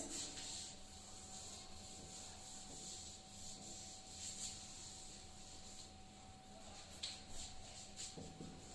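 A board being rubbed clean during a biology lesson, with steady soft scraping strokes in a quiet room, a faint constant hum underneath and no voices.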